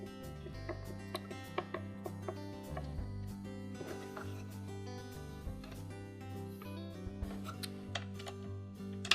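A screw being driven back into a Maytag refrigerator's meat drawer glide, with quick ratcheting clicks and small mechanical ticks in bursts over a faint steady hum, close and quiet.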